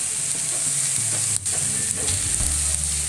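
Pork knuckle and sofrito sizzle loudly in a pan, a dense continuous frying hiss with stirring scrapes and a brief dip midway, close and without talk.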